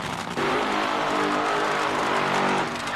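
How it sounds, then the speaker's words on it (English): Top Fuel nitro dragster engines at an NHRA drag race roar in a sustained, extremely loud, dense blare that swells sharply after a brief start and holds near full volume throughout. "with the nitro cars getting ready to rip right now"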